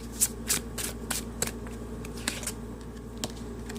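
A deck of tarot cards being shuffled by hand at close range, a run of quick, crisp riffling flicks and soft slaps, fairly quiet with no talk.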